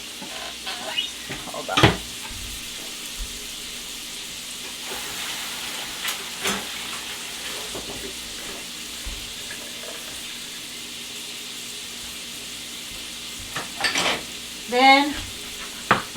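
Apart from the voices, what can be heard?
sautéing shrimp scampi in a pan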